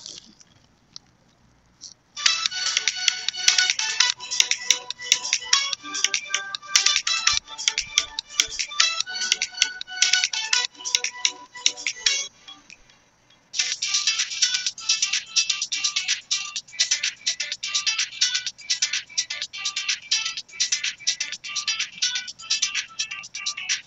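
Non-copyright music plays through Boat Airdopes 161 ANC earbuds with a thin, bright, bass-light sound, broken by a short pause partway through.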